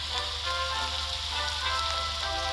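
Rain falling in a farming video game, a steady, even hiss of drops that holds at one level throughout with no talk.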